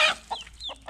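Hen with chicks on a small poultry farm giving a few short, close clucks with thin high chirps between them in a brief, quiet burst.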